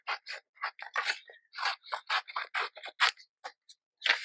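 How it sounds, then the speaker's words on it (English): Scissors cutting through old book page paper: a quick run of crisp snips and slicing crunches, close and fairly loud, with brief pauses between cuts. "So again, I'm just kind of cutting around."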